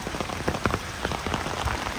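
Rain falls on the streets of Lviv, on Drahomanova and Hrushevskoho streets, building into a downpour: a dense, steady patter of drops striking hard surfaces, close and continuous with no voices.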